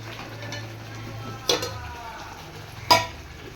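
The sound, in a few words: spice masala and marinated mutton frying and being stirred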